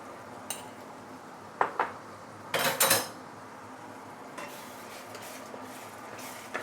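Belacan and sugar being stirred in hot oil in a pan for Malaysian ikan bakar, with scattered metal spatula clinks and scrapes, including a louder cluster of scraping, over a quiet background sizzle.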